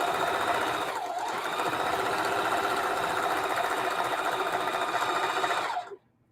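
A sewing machine stitching quilt fabric with heavy-duty quilting thread runs at a steady, fast, continuous whir for about six seconds close by, then stops abruptly.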